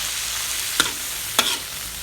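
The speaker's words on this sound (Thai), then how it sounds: "ผัดกุ้งให้สุกก่อนนะครับ" Shrimp stir-frying with crispy garlic in a hot pan, a steady broadband sizzle running throughout, with two sharp scrapes of the spatula against the pan partway through.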